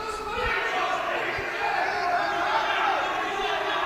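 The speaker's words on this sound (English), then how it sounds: "The crowd really getting up for this one now." Arena crowd at a boxing bout in the GB Open 2024 63kg class, a steady loud roar of cheering and shouting that runs throughout with a few thuds, under a commentator's voice.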